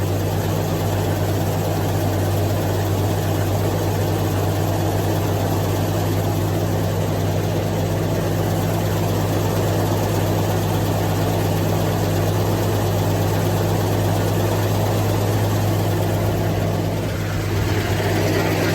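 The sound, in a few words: Ford XE Falcon engine idling after cold start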